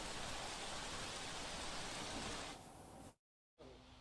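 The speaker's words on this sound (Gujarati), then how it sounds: "શહેરના ચ રોડ સહિતના વિસ્તારોમાં અત્યારે વરસાદ વરસી રહ્યો છે." Dense, steady hiss of heavy rain pouring down in Gandhinagar, easing slightly near the end before a brief total dropout, then the rain noise resumes.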